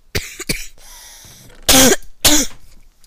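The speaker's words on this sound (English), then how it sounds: "Sorry for my coughing in this game." Several harsh coughs and throat clearing, two sharp ones early, then two louder, rougher bursts, close to the listener.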